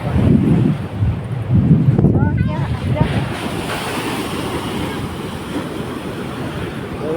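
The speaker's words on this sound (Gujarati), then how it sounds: "કેવા પાણીના મોજા કેવા ઉછળે" Sea waves surge and crash steadily close by, with heavy wind buffeting the microphone throughout.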